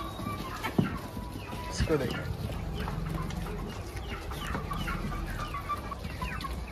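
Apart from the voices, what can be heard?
chickens clucking while eating leftover rice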